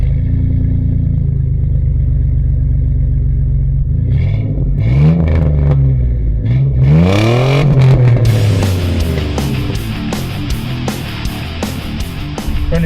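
A high-mileage 2001 Chevy S-10 pickup idling and then accelerating hard from a stop, its engine rising in pitch through repeated revs and shifts, loud and close, with no talking.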